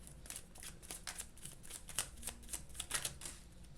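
Tarot cards shuffled and drawn, a quiet, close run of crisp riffling flicks and slaps in quick irregular bursts, with no voices.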